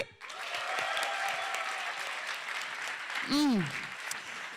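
Audience applause from a studio crowd at a pitch contest, steady broadband clapping filling the clip, with a brief whistle or whoop near the end and some voices mixed in.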